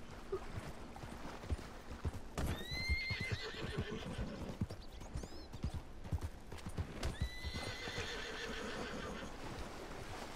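A horse in a Red Dead Redemption 2 Online video game, with rapid galloping hoofbeats throughout and several loud whinnying neighs rising over them, close and continuous.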